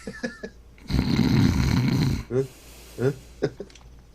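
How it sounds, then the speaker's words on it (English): A person snoring in bursts, with a long rough rattling inhale in the middle and shorter snorting breaths after it, close and fairly loud, with brief voices before it. "Viet's already snoring"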